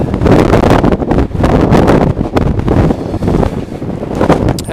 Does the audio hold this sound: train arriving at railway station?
no